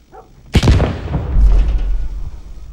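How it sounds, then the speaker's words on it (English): A loud explosion goes off outside during a cinematic event in Final Fantasy 7 Remake: a sharp blast followed by a heavy, rolling rumble that lingers and slowly fades. "it triggers an event outside where you can see the explosion going off"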